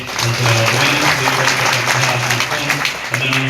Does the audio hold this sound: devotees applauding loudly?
yes